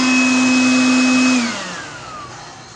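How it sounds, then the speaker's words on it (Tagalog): A 2-in-1 vacuum blower tool runs loudly with a high motor whine, then winds down, its pitch sliding lower as the noise fades away. "iba-vacuum ko ito gaw"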